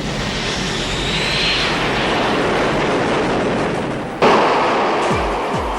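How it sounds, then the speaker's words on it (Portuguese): A KA-6D Intruder refuelling tanker jet roars past in flight, a loud sustained broadband engine rush that swells, then a sharp shift to a descending whine as it moves away. "A esquadrilha inclui pelo menos 4 KA-6D Intruders de abastecimento"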